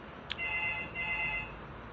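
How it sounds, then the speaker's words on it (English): A phone rings outdoors on a small dead-end street, giving a brief electronic tone with steady ringing pitches that lasts about a second after a short click, fairly faint against background noise. "and phone ringing for no reason"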